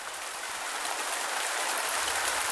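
Rain background noise from a relaxation sound app: a steady, even hiss of falling rain with no distinct drops standing out, constant in level and close.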